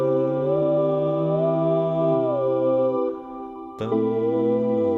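A Dubler 2 vocal-controlled synth plays a single-note melody that bends smoothly in pitch over a sustained chord backing track, with a sharp click and a break near the end before the tones return.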